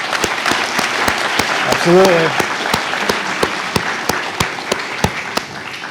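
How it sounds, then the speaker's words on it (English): Audience applause fills a hall at the New Bedford Economic Development Council annual meeting, a dense, steady wash of many hands clapping close by for the whole stretch, while a speaker's voice briefly carries over it. "Going to be a lot of applause tonight."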